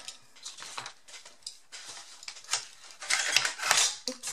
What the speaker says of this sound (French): je vais venir la découper